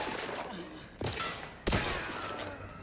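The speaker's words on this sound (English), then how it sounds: "I don't hate the gun, but it is a little slower firing than I would like." Rifle fire in the video game Outer Worlds 2, with a slow rate of fire: two loud, sharp shots about two-thirds of a second apart, each followed by a short ringing tail over quieter background noise.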